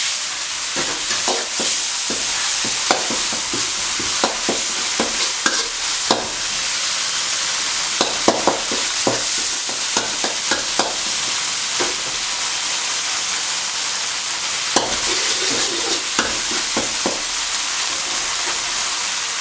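Spicy catfish curry sizzles loudly in a pan after water is added, a steady hissing fry broken by repeated sharp scrapes and clicks of stirring, no talking.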